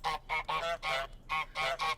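A goose in Untitled Goose Game gives a run of about seven loud, nasal honks in an even, bouncing rhythm, each short and separated by brief gaps, with nothing else heard.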